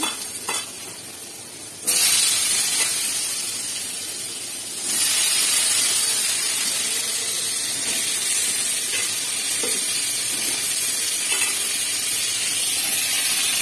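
Pointed gourd (potol) pieces coated in salt and chilli powder fry in hot oil with a loud, steady sizzle and hiss that swells after a brief quieter start and carries on unbroken.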